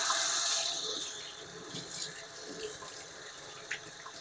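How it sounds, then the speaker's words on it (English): Tap water runs into a kitchen sink during hand washing, a moderate steady splashing stream that tapers and continues more softly with small clatters. "Let me wash my hands."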